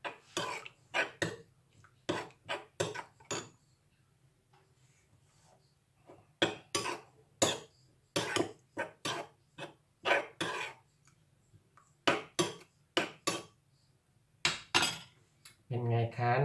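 Chili paste (nam phrik) stirred in a pot in a home kitchen, giving repeated clinks and scrapes of a utensil against the pot in short bursts, fairly close, with a cough or throat clearing at the end.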